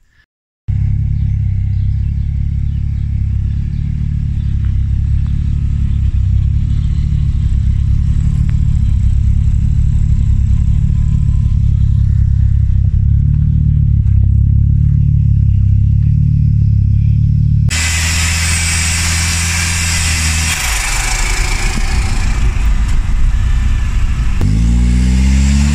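Saab B234 engine mated to a Mazda MX5 gearbox, running on the stand: a loud, steady low idle drone for most of the stretch, then sharp higher-pitched revving near the end, close up, with no talking.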